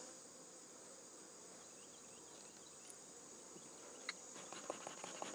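Honeybees in an open hive with frames exposed make a steady, soft droning buzz, low and continuous, with a few faint clicks near the end.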